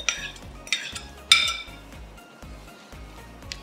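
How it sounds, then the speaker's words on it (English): A utensil mixes bread pudding with apples in a bowl, giving several sharp clinks and scrapes against the dish at an uneven rhythm. The sounds are close and clear, with no talking. "what you want to do is give it a good mix"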